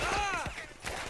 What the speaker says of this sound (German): Achtung, Schüsse, Schüsse, Schüsse von unten, von unten.